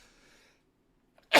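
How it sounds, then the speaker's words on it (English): A single hard, explosive human sneeze bursts out loudly at the end after near silence, preceded by a faint murmur. "I sneezed so hard."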